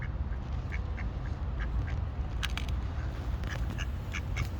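Two ducks quack in Paris near a church, short raspy calls repeated irregularly at a moderate distance over steady low city rumble and traffic noise.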